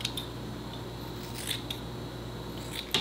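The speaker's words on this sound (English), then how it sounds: "And then we just trim over the top of the foot" Scissors trim the hair over the top of an Australian Shepherd's foot, giving several sharp, close snips spaced irregularly over a faint steady hum.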